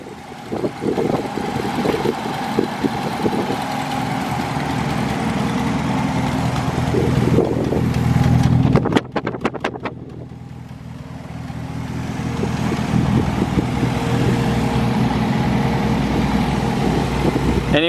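A 1956 Austin-Healey 100M LeMans roadster drives along the road with a steady engine drone, a brief rattling burst midway, then the engine settles back into a continuous hum, with no voices.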